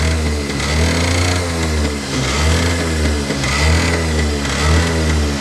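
An old Mobylette moped, left broken and abandoned for ten years, runs with its small engine revving up and down in steady waves, loud and close, with no voices.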